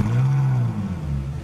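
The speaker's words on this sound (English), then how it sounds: "let's fire it up." A Ferrari 458 Italia V8 engine starts with a deep rumble that swells and settles into a low, throaty idle, close and loud.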